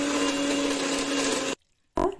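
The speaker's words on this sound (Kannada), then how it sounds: "ಇದನ್ನ ಚೆನ್ನಾಗಿ ಮಿಕ್ಸಿಗೆ ರುಬ್ಕೊಂಡು ಬನ್ನಿ" A mixie grinds corn vada batter with coriander and curry leaves, a loud steady whirring drone for about a second and a half, then a sudden stop, a brief silence and a short restart.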